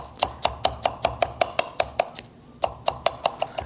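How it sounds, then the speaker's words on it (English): A knife chops tomatoes on a cutting board while an Ethiopian dinner is prepared, a steady run of crisp close knocks about five per second, a brief pause, then the even rhythm resumes. "So right now, cut the tomatoes."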